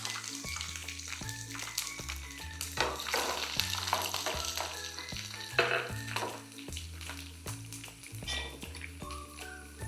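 Garlic sizzles in hot oil in a pan while beef pickle is being made, with steady frying crackle and repeated stirring scrapes, and a faint background tune plays underneath.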